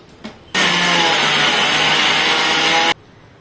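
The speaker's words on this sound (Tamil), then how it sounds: "இது மூணையும் போட்டு கொஞ்சம் ரொம்ப நைஸாக இல்லாமல் கொஞ்சம் பருன்னு நம்ம வந்து அரைச்சி எடுத்துக்க போகிறோம்." A mixer grinder grinds roasted sesame seeds, dried chillies and salt in one loud, close whirring burst of about two and a half seconds that starts and stops abruptly, with quiet before and after.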